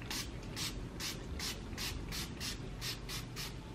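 Rose gold skin mist sprayed onto the face, a run of about eight quick, evenly spaced pump-spray bursts, soft and close, with no talking.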